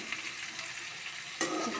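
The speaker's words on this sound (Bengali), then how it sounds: "আদাটাকে ভাজা ভাজা করে নেব।" Jackfruit pieces and ginger fry in a pan with a soft, steady sizzle that jumps louder near the end as the food is stirred.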